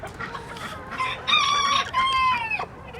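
Gamefowl, a cockerel and hens in a pen, cluck and call in a series of close, bright squawks, with a short crow-like rising call in the middle over faint background noise.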